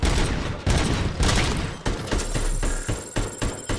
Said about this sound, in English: You actually let me hit Ed-209 with one bullet